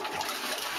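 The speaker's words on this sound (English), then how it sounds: "What happens when you flush the toilet?" A toilet flushes with a steady, broad rush of water, close and fairly loud throughout the brief moment, with no voices.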